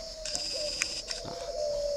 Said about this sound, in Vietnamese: trang trại chim ngu gáy của mình thì rất là rộng xung quanh toàn là tiếng gáy chim gáy thôi